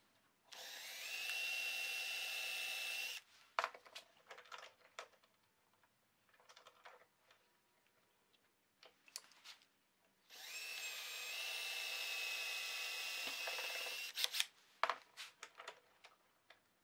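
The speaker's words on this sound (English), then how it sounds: "I think I'm just going to try and drill this out" A high-pitched power drill whines in two long bursts, drilling out a broken tension bolt on a scroll saw, separated by scattered clicks and taps of handling.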